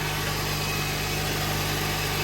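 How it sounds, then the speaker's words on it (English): A hybrid car's engine idles while warming up after an oil change, a steady, loud, even hum with a constant low drone and no talking. "let the engine run and get warm"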